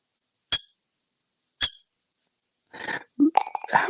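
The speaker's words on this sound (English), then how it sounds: "He's got a squeaker." A small squeaker toy squeaks twice at close range, each a sharp, brief chirp about a second apart, followed by softer squeezing and rubbery squeals.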